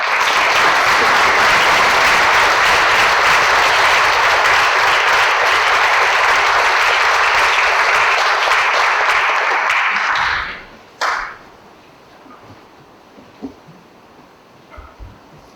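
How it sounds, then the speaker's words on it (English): Sustained audience applause at a town hall on the opioid crisis, a loud dense wash of clapping lasting about ten seconds before cutting off abruptly, followed by quiet room tone with a few faint knocks. "another big round of applause for Gregory"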